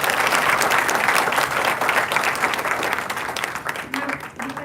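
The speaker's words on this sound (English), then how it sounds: "Please join me in giving a thunderous round of applause" A hall audience claps in a dense, loud burst to welcome a guest at a Navratri special talk session. The applause stays steady, then tapers slightly toward the end.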